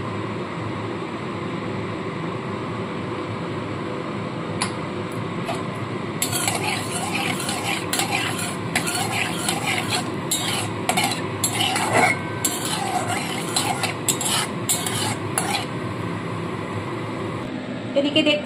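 Whole garam masala and mace land in hot oil, followed by steady scraping and clinking of a spoon stirring in a metal pan, with a low continuous hum underneath and busier utensil clatter in the second half.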